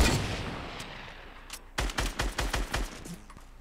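Fortnite gunfire in a duo Battle Royale match: a faint shot early on, then a rapid burst of about seven loud, evenly spaced shots from one weapon, ending abruptly.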